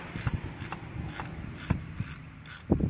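A ratchet wrench clicks in quick, uneven bursts, near and clear, as it loosens the throttle-body nuts on a supercharged Gen 3 M90 engine in a GTP.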